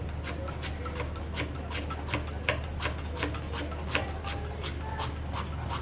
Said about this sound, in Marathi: कोथिंबीर चिरून घेते